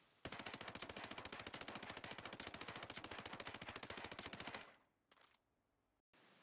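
An SC40K assault rifle fires in Ghost Recon Breakpoint, a loud, rapid, unbroken automatic burst lasting over four seconds before it cuts off, followed by a couple of short mechanical clicks.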